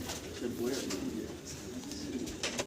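Pigeons coo softly at a farm, low murmuring calls heard faintly and continuously against a quiet background with some faint voices.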